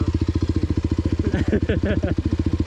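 A motorcycle chugs steadily at low speed on trails through a solar farm, its engine note pulsing evenly close by, while a rider's voice talks over it partway through.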